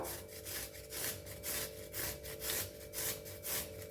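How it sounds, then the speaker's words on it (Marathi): A carrot is rubbed over a small hand grater in quick, even back-and-forth strokes, about two rasping scrapes per second, close and steady with no talking. "आपण छोट्या किसणीने किसतो आहे"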